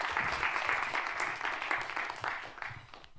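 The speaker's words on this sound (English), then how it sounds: "A round of applause," A conference audience applauds after a presentation with a steady, even wash of many hands clapping, heard from a moderate distance at a fairly low level and without breaks.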